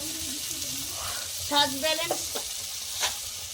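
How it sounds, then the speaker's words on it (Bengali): Spices for a jackfruit curry with egg fry and get stirred in a pan, a soft steady sizzle with scraping spoon strokes and a few brief clinks, close by and moderately quiet. "স্বাদ ব্যালেন্সের নুন দেব, একটু চিনি দেব, দিয়ে মশলাটা ভালো করে কষিয়ে নেব।"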